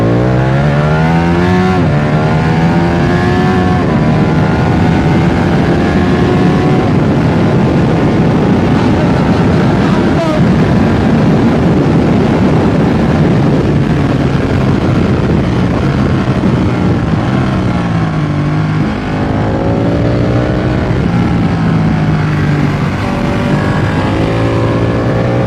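A Ducati Panigale motorcycle engine runs loud and close with a deep bassy tone, pitch sweeping up and down through repeated revs over a sustained run.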